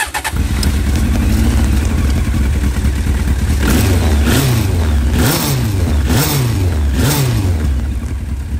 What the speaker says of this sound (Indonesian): Kita tes bunyi suara dari CBR 919 SC33 tahun 96 sampai 97.